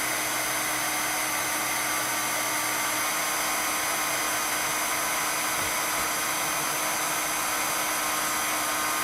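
A heat embossing tool blowing hot air while card embossing powder is set, a loud, steady, high-pitched electric whir with a constant fan hiss running unbroken throughout, close to the microphone.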